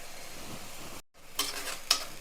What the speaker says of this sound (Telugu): ఇదిగోండి ప్యూరీ కూడా వేసేస్తున్నాను, టమాటా ప్యూరీ కూడా వేస్తున్నాను.